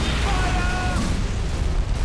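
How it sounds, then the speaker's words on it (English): A big explosion in the video game Mercenaries 2: World in Flames, a loud, sustained broadband roar and rumble that fills the whole clip, with a brief tonal voice-like layer near the start. "That's a big explosion."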